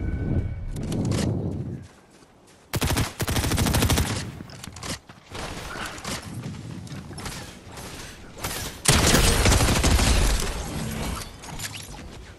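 Bursts of rapid gunfire from mech weapons in a video game, loud close volleys broken by short pauses and mechanical clanks, with little talk over them.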